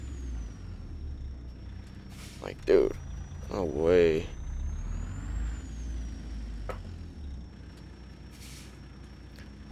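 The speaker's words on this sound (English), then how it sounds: "Look, we're about to slam on the brakes." Truck air brakes in a truck-driving video game hiss briefly over a steady low engine drone, while someone talks excitedly over them.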